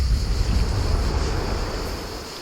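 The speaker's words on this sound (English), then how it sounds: "we are greeted by the muffled sound of water" Water from a distant waterfall rushes in a muffled, steady roar along a forest path in a ravine, fading slightly over the short stretch.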